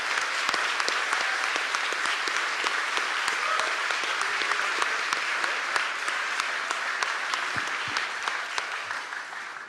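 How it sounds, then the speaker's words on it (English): An audience at a classical Christmas evening concert gives a round of applause for a performer: dense, sustained clapping from many hands, close and steady throughout, with no talking over it. "So I'd like to give Matt another round of applause for his achievement for this town."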